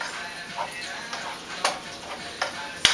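A pound and a half of ground beef stirred in a small pot, a low steady sizzle broken by a few light spoon scrapes and clicks against the metal.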